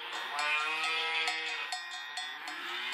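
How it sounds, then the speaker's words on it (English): Farm animal calls form a long tonal bleat-like moo that holds steady for nearly three seconds, with a bell-like clank ringing through it at intervals. "Cow."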